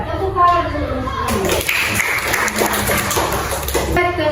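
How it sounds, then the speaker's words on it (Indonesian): Children in a third-grade class clap their hands together in a brief burst of applause, mixed with classroom chatter and a teacher's voice in a lively room. "Tepuk tangan dulu"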